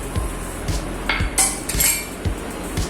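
Dishes and utensils knock and clink on a countertop as a mixer jar is handled and coconut is added, a series of soft thuds and a couple of bright metallic taps.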